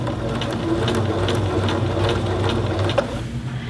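A sewing machine stitching a sleeve seam on a men's dress shirt, running at a steady close rhythm with a mechanical whir and regular needle ticks, then slowing near the end, with no voices.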